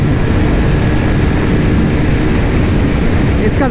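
Motorcycle engine roaring steadily in sixth gear during a drag race between a Triumph Speed 400 and a 2024 KTM Duke 390, loud constant drone with wind rush throughout.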